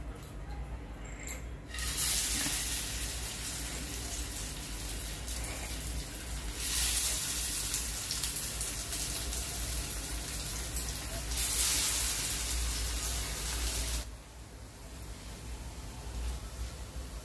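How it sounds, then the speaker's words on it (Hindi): Sprout tikkis shallow frying in hot oil in a pan make a continuous sizzle that swells and eases in stretches, with a quieter pause near the start and end, and a voice talks at times. "पैन और तेल अच्छी तरह गर्म हो चुका है, अब हम इन टिक्कियों को शैलो फ्राई कर लेंगे"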